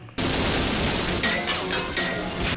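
Gunfire in a Gargoyles cartoon episode: a sudden loud volley of rapid shots erupts after a short quiet lead-in and keeps rattling densely, with a few sharper bursts standing out near the end.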